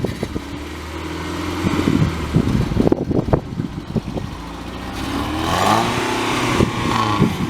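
A Ford Taurus car engine revs up and down in uneven bursts, loud and close, with clattering mechanical noise between the surges.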